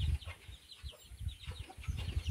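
Hens on the perch in a farm chicken coop clucking softly and repeatedly in short, irregular bursts close by, with no voices.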